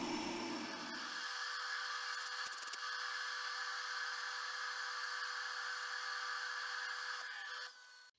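A lathe boring bar cuts steadily inside a hole, enlarging it to 38 mm: a continuous, fairly faint high-pitched scraping whine with a low hum at the start, ending abruptly near the close, with no talk.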